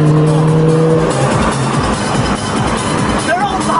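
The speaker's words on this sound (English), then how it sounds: "I just started the car to go." A car pulling away hard on a parkway amid fast sports cars, with a loud sustained tire squeal and rising engine note close by, continuous for several seconds.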